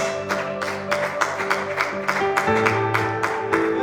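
Church congregation clapping rhythmically in a steady beat as an offering to God during a service, loud and close, with music tones sustained underneath.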